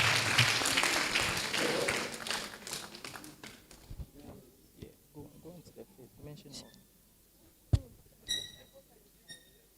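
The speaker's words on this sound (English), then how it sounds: "We can still be clapping." Audience clapping at a university debate championship award ceremony, a dense burst of applause fading out over the first few seconds, followed by a few scattered claps and a room voice.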